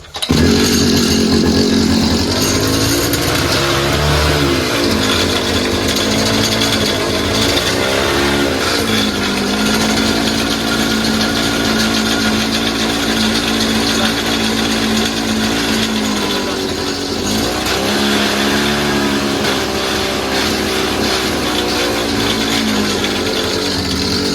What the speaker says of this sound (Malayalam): നമ്മൾ പുതിയ സൈലൻസർ വെച്ചിട്ട് സ്റ്റാർട്ടാക്കി വെക്കും